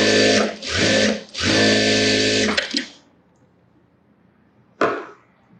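A sewing machine stitching a sleeveless blouse runs in three steady, loud whirring bursts with short pauses between them, then stops, followed by a brief quiet stretch and one last short mechanical burst.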